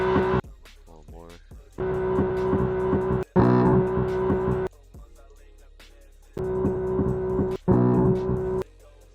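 A BMW S55 engine sound in a driving video game, with bursts of rising revs broken by sharp gear changes and pauses, heard as if from inside the cabin, alternating with quieter idle gaps.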